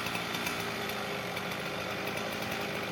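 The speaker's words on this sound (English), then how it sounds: "so that's called an Alaskan chainsaw" An Alaskan chainsaw runs steadily at a loud, even drone with a dense buzz and no pauses, and no voices are heard over it.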